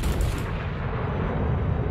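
Naval gunfire from warships in a naval battle video game, a dense low rumbling boom that rolls on continuously without distinct separate shots.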